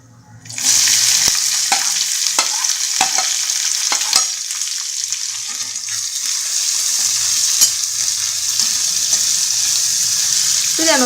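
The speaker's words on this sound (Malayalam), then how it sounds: "ഇതിലേക്ക് നമുക്ക് സവാള ഇട്ട് കൊടുക്കാം." Sliced onions hitting hot oil with cinnamon and cloves in a pan for a chicken curry, bursting into a loud, steady sizzle, with several sharp clicks of a spoon stirring and scraping throughout.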